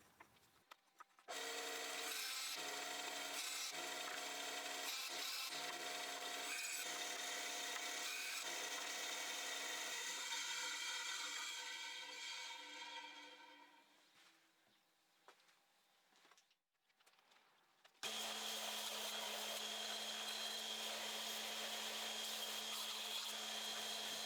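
A bandsaw cutting wooden climbing holds, a loud, steady whine with rubbing and grinding from the blade on the wood, fading away before a second tone-heavy run starts up.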